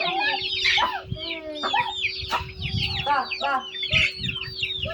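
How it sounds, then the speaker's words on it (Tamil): Several chickens cluck and squawk loudly nearby in busy overlapping calls as they run away, with rustling and a steady electrical hum underneath. "அவனை பார்த்தாவே இந்த கோழிக்கு எதுவும் வரமாட்டேங்குது, தெரிச்சு ஓடுது பாருங்க"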